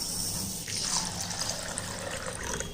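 Water pours over a glass of toor dal set to soak for a Tamil lunch recipe, a close splashing trickle that swells briefly and then settles into steady running, with no talking.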